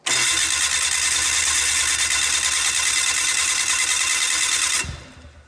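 A turbocharged engine that sat underwater for 30 days cranks hard as it tries to start, a loud continuous starter whir with rough popping underneath, then cuts off near the end with a short clunk.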